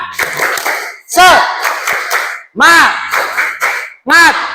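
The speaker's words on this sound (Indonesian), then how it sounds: "coba tepuk tangan dulu, tepuk tangan yang semangat" Bursts of enthusiastic group hand clapping, with three or four loud rapid rounds separated by brief pauses, and voices shouting and cheering over the applause.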